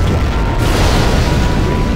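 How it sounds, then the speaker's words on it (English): A nuclear missile launch explosion from the Command & Conquer Generals Zero Hour video game roars as a loud, sustained, rumbling blast that fills the whole two seconds without pause. "We have launched our nuclear missile."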